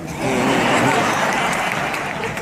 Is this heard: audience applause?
yes